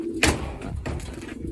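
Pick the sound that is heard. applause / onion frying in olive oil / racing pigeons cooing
racing pigeons cooing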